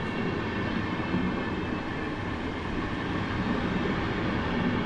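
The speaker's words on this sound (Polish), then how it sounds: "To jest najbardziej zimowy pociąg na tym nagraniu." Wintry, ice-coated train wagons from Budapest and Munich roll through Warszawa Zachodnia station with a steady, loud rumble and rail clatter, unbroken across the stretch, with no voices.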